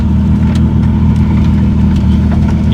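A 2JZ-GE engine with a turbo swap runs in an MK3 Supra at a steady idle with a loud, dense low rumble. The sound is close and even, with no talking.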